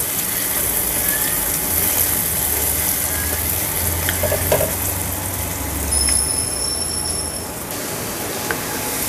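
Thinly sliced onion frying in melted butter for a creamy mushroom dish, a steady soft broadband sizzle running throughout, with a low hum underneath and no talking.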